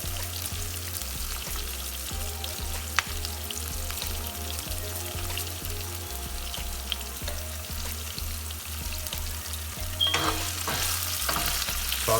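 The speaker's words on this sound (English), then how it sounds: "Saute it" Sea bass seasoned with pepper and plenty of rosemary sautés in a pan with a steady close sizzle and regular scraping ticks, growing busier and louder toward the end.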